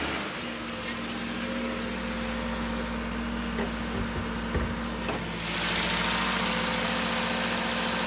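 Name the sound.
2017 Subaru Legacy 2.5-liter 4-cylinder engine starting and idling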